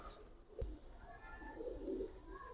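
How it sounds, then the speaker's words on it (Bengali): A female pigeon coos softly among a keeper's flock of Giribaz and colour pigeons, giving a few low, faint murmurs with a brief knock near the start and quiet background voices. "মাদি কবুতর ভাই এটা"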